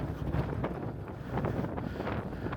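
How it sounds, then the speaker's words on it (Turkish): Strong wind in Urfa rumbles and buffets the microphone in a continuous, fluctuating roar, loud and close throughout. "Bu ara Urfa çok esiyor."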